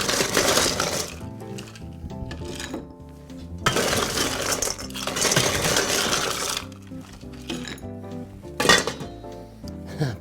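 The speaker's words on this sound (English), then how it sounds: "Now we add some ice." Ice cubes tumble into a metal cocktail shaker in several loud, clattering bursts, rattling and clinking against the metal, with short quiet gaps between scoops.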